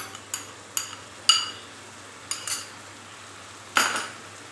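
A spoon clinks and scrapes against a cooking pot while dal with cream is stirred, a series of sharp metallic taps spaced irregularly, close and fairly loud over a low steady hum.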